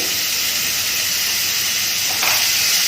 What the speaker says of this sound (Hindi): और प्याज को भी अच्छे से भूनेंगे हल्का ब्राउन होने तक